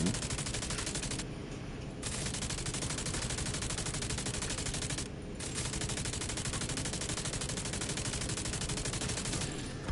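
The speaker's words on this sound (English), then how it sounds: "Who the fuck is shooting at me?" Dense, continuous enemy gunfire in The Division 2, a loud rattling fusillade of automatic weapons firing almost without pause, broken by two brief lulls before resuming.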